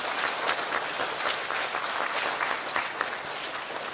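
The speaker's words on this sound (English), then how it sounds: "Let's give our 4th and 5th grade students a nice round of applause." An elementary school ceremony audience gives 4th and 5th grade students a steady round of applause, many hands clapping evenly at moderate volume throughout.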